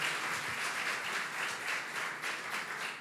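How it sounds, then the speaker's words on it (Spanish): Applause from a church congregation at a sermon, steady dense clapping from a large crowd filling the whole stretch at an even level, with no voices over it. "¿Y qué tal si le das un aplauso grande al Señor de nuevo?"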